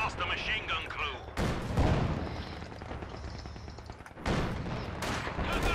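Gunfire and heavy bursts crack through a Company of Heroes 2 desert-map battle, coming in two loud clusters separated by a calmer stretch, with a player's voice heard alongside.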